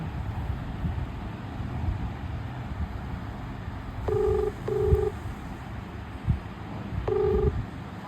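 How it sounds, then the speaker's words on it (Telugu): Two short groups of dialing tones beep over a low background hum, with a few soft knocks and thumps in between. "మళ్ళీ ఫోన్ చేద్దాం మనం"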